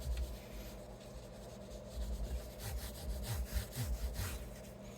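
A Gibson Les Paul guitar is buffed by hand, giving a steady soft rubbing, swishing friction with rhythmic back-and-forth strokes, close and fairly quiet, with no voices.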